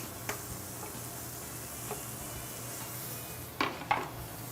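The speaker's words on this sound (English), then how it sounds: "You hear that nice sizzle." Diced onions sizzling in hot extra virgin olive oil in a pan, a faint steady hiss with a couple of sharper clinks of a utensil near the end.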